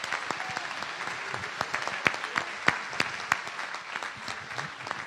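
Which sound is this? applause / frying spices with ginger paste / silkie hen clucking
applause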